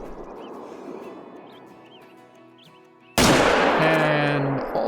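A rifle fires one sudden, loud shot at wolves in the hunting video game Call of the Wild, cracking after a quiet stretch of faint ambient outdoor sound and bird calls, then ringing out briefly.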